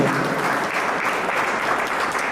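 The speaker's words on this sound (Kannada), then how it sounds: "ಇದರಲ್ಲಿ ನಿಮ್ಮ ಜೋರಾದ ಚಪ್ಪಾಳೆ ಬರಬೇಕು ಸಮರ್ಥ ನಮ್ಗೆ" A seated audience at a state award and honouring ceremony gives steady, dense applause that holds for the whole stretch, loud and close.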